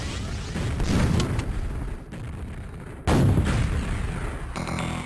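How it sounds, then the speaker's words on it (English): Booming rocket blasts from a Quake deathmatch on the dm4 map, two heavy close explosions with a sharp rumbling tail, the second louder than the first, and no talk over them. "I think he rocket jumped up then."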